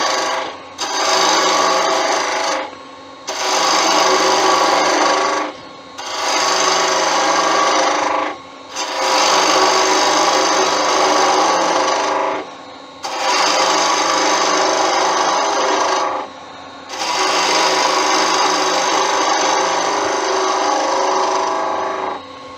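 Wood turning on a lathe running at about 1500 rpm, a bottle opener blank being cut down to mandrel size: loud, steady rasping cuts in five long passes with brief pauses between, no talk.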